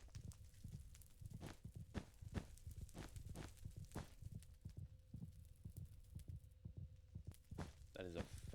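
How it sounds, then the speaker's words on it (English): The Warden's heartbeat in Minecraft's Deep Dark, a quiet, regular low thumping, roughly one beat a second, repeating faintly through the whole stretch with a short rising cry near the end. "That is a fast heartbeat, though."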